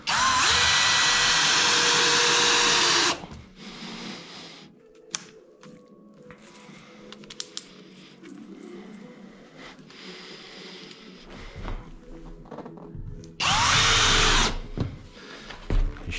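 A power drill drives screws through a second layer of glued OSB boards on a wooden floor structure in an old house renovation, giving two loud, close whirring bursts, one at the start and one near the end, with quieter handling noises between.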